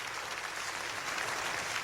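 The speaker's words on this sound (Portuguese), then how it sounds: "Isso aí, pode glorificar o Senhor com palmas." A church congregation claps together in a brief, dense burst of applause that stays steady and moderately loud throughout.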